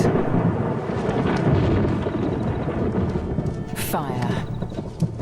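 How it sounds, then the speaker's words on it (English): A thunderstorm rolls in over dry African grassland, with a deep continuous rumble of thunder and rain beneath it, plus a brief high sweeping sound near the end. "A storm approaches."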